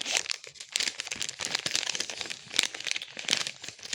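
Close, irregular crinkling and rustling of a plastic packet of scrapbooking die cuts being handled, with sharp crackles scattered throughout and no talking.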